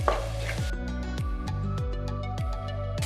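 Fenugreek leaves, curry leaves and ginger-garlic paste frying in a pan for mutton curry iguru, a continuous close sizzle with regular stirring scrapes and no talk.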